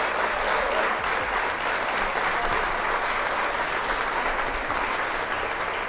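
Dense, sustained applause from many hands clapping, loud and steady throughout like a crowd, with no speech over it.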